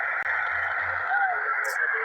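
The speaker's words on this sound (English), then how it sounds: "Got a lot of white noise in here." Steady hiss of white noise static from a Radtel RT860 HF radio on a 28-inch SMA antenna, a constant close hum with one brief dropout near the start.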